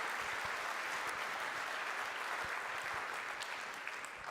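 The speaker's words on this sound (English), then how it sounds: "Give him a big round of applause." Conference audience clapping steadily as a guest speaker is welcomed on stage, a dense continuous wash of applause at moderate level throughout.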